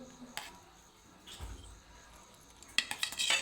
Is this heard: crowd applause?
no